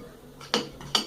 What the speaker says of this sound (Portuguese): E vou mexer com um pouquinho com a colher